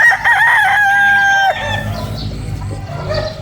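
Sweater Gilmore breeder rooster crowing at a poultry farm, one loud close crow rising and then holding, followed by softer clucking and farmyard noise.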